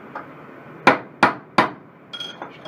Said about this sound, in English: Just get you a drift punch and go down in the spindle.